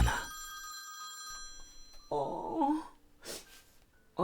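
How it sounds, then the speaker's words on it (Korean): A phone rings on unanswered, a warbling electronic ring tone that repeats in short bursts. A voice sounds briefly between the rings. "송 사장이 전화를 안 받네"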